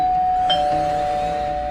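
A doorbell rings once with a single bright tone that lingers and sustains evenly over a faint hiss.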